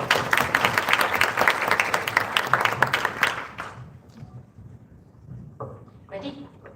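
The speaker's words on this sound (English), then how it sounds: "Please welcome them with a big round of applause." Audience applause at a live-streamed school event on wildfire prevention, a burst of dense clapping for about three seconds that quickly fades out, followed by quieter room noise and brief talk.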